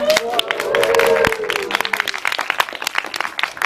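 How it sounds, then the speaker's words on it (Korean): Audience clapping at a film screening and guest talk in a Seoul cinema, a dense burst of applause that thins into scattered claps, with a brief voice and tone near the start. "박수 부탁드릴게요"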